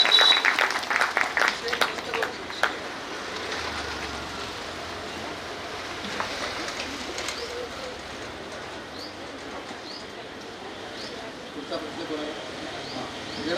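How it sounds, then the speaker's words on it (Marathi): Audience applause at a temple discourse, a burst of many hands clapping loudly for about three seconds, then fading into a faint murmuring room with scattered bird calls in the background. "श्रोत्यांसाठी पुन्हा एकदा टाळ्या."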